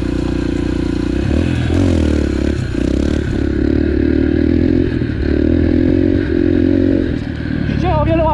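Yamaha TT-R dirt bike engine running steadily in third gear, with a loud, close mid-pitched drone that swells and dips with several throttle blips, plus clattering and scraping from riding over rough ground.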